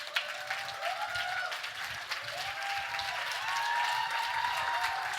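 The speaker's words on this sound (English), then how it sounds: "give her a round of applause" Audience applause fills a hall at a young adult forum, a sustained, dense wash of clapping that builds slightly louder toward the end, with faint cheers mixed in.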